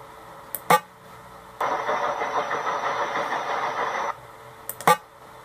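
A synthetic lorry engine drones steadily for a few seconds, bracketed by short blaring horn blasts before and after, from the game Five Nights at Smudgers 2.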